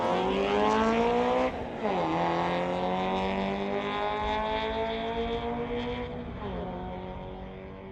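An Audi and an Acura launch side by side in a street-legal drag race. Loud engines rev hard through rapid gear changes, with each shift dipping and rising again, and the roar fades slightly as they pull away.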